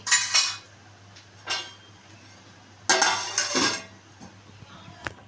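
A metal lid set over a cooking pot of potatoes and fish, a few sharp clinks and clatters in separate bursts, the loudest near the middle, with quiet gaps between them.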